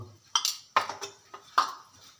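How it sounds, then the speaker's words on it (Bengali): A flatbread is flipped in oil in a pan, giving a few sharp metallic clinks and scrapes of a utensil against the pan, spaced irregularly over quiet frying. "আমি তেল দিয়ে ঘোরাচ্ছি"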